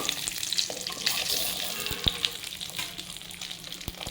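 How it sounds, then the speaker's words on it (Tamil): Cashew nuts fry lightly in a pan with a soft steady sizzle, punctuated by a few sharp scraping stirs and clinks of a utensil. "இதில் கொஞ்சம் முந்திரி பருப்பு சேர்த்துக்கிறேன் இது ஆப்ஷனல் தான் பிடிச்சா சேர்த்துக்குங்க இதை லைட்டாக ஃப்ரை பண்ணிப்போம்"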